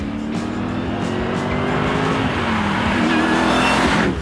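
A 1965 Pontiac Catalina 2+2 full-size muscle car with a four-speed manual and rear-wheel drive roars loudly and steadily on a drag strip, its engine note climbing in pitch, with a hint of tire squeal.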